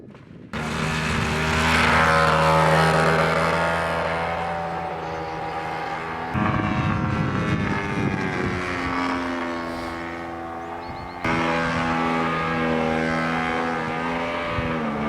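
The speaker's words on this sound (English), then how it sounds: "97-inch wingspan with an 85cc engine swinging 28-inch prop" A 97-inch-wingspan RC model airplane weighing about 24 pounds, its 85cc engine swinging a 28-inch propeller, drones steadily with a loud continuous harmonic buzz that shifts pitch as it passes and maneuvers overhead.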